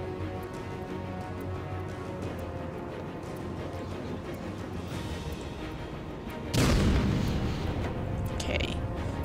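A grenade goes off in Batman Arkham City, a single loud blast bursting out about two-thirds of the way through over a steady bed of game noise, with a fainter echoing rumble trailing after.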